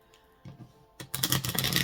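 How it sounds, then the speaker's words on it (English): Cards being riffled and shuffled close by, a quiet tap or two followed by a dense, crackling burst of flicking cards that runs to the end. "So I'm going to shuffle for you guys first on the deck."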